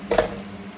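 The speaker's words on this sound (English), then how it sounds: "I'm gonna whack it with my heavier hammer." A heavier hammer strikes a metal stamp into leather for a keychain fob, giving a single sharp, close knock with a brief ring that fades quickly.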